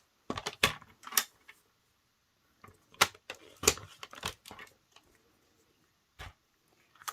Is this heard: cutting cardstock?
yes